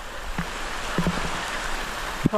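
Heavy rain pours steadily in a mountain valley, a dense hiss of drops close around an outdoor cooking spot, with a few brief knocks and thumps breaking through the constant wash.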